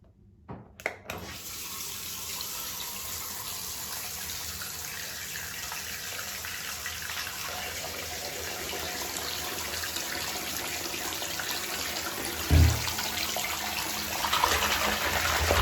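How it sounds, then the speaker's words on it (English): Running water from a shower or tap flows steadily and close while hair is rinsed and washed, a continuous broadband gush with a couple of brief knocks near the start and a splash toward the end, no talking. "So I'm gonna rinse this off now, wash my hair"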